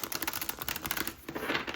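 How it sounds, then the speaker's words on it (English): A deck of tarot cards being shuffled, quick close rapid clicking and riffling ticks in a dense burst, briefly pausing before a second flurry. "I'm just going to do one more shuffle."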